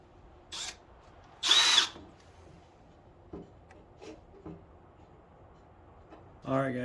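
A power drill boring holes for a battery tray on a 1988 first-generation Toyota 4Runner with a 3.4 swap, heard as two whirring bursts, one short and one longer and louder, amid clanks and light workshop handling.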